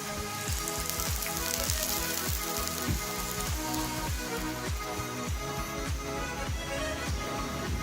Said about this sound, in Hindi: थोड़ा सा ऑयल डालेंगे हम इसके ऊपर भी और नीचे भी।